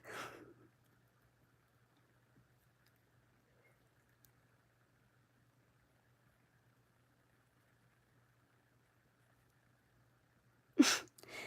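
A single sharp sneeze bursts out near the end after a long, nearly silent pause, with a faint breathy sound at the very start.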